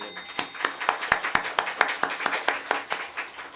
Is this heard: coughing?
no